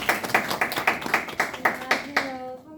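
A small group claps together in about nine quick, evenly spaced bursts, close and lively, then stops as a voice begins to speak.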